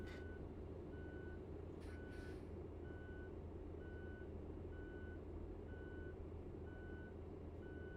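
Steady evenly spaced reversing beeps from a bus in Euro Truck Simulator 2 repeat over a constant low engine rumble, with a brief hiss near the start.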